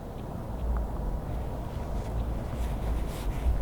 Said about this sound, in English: Wind is terrible.